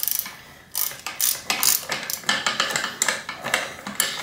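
Someone unscrews a part on a Manitou Magnum bicycle suspension fork, making a close, rapid series of ratcheting clicks in quick, uneven bursts, with no talking.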